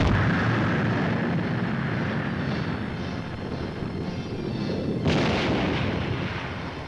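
A Nike Hercules air defense missile launching with a massive, sustained roar that rumbles on and surges again with a sharp burst before fading slightly.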